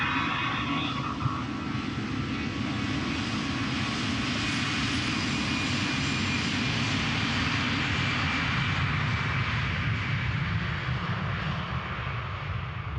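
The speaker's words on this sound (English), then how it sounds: "Did not come to a full stop before spooling up, taking off" A jet airliner spools up and takes off at Amsterdam Schiphol Airport without stopping first, a loud, sustained roar with a broad rushing hiss that holds steady and close throughout.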